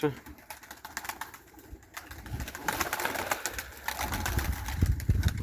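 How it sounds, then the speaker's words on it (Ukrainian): Turkish Takla tumbler pigeons fluttering and cooing nearby as they take off, with wingbeats and shuffling building in loudness toward the end, some clattering mixed in. "Тренуємо голубів далі."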